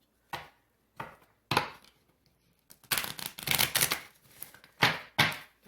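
Tarot cards are shuffled in quick riffling bursts separated by short pauses, crisp and close, with no talking.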